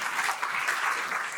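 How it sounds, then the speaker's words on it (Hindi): Students in a university program hall break into dense, sustained clapping, a broad crowd ovation that stays even and loud throughout. "ताली तो बजाइए अपने."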